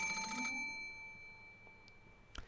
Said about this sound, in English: There was a phone on the bedside table across from the one with the door, and it was ringing noisily.